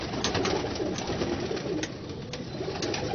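Ali-wala breed pigeons in Lahore coo softly over a constant background hiss, with a few faint higher chirps, and no one speaks.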